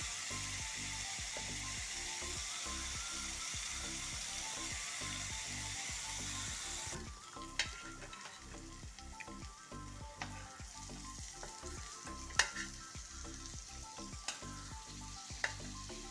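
Leftover masala sautéed in the oil remaining from frying fish, a steady sizzle with rhythmic spatula stirring and scraping, the hiss easing midway while clinks of the utensil against the pan continue.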